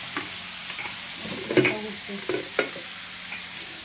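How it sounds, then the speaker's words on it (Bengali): Potatoes frying in a home kitchen pan, a steady close sizzle with intermittent scraping taps of a spatula stirring, no voices over it. "আলু ভাজা চলছে, হয়ে এলো আলু ভাজা"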